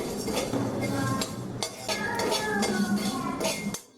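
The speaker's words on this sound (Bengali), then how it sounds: "শুকনো কড়ায় এই মশলাগুলো মিনিট দুয়েকের জন্য নাড়াচাড়া করে আমি ভেজে নেব।" Whole black peppercorns and coriander seeds are stirred in a dry pan, giving busy metallic scraping and clinking of a utensil against the pan, close and steady throughout. A faint voice may be present.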